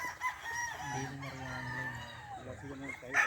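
An old-line Sweater gamefowl rooster at a game farm lets out a single drawn-out crow, fairly close and moderately loud, with faint farm background around it.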